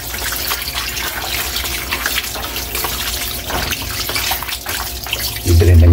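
Running tap water pours steadily in a kitchen sink while pork is washed again for dinuguan, a continuous loud splashing rush that grows heavier near the end.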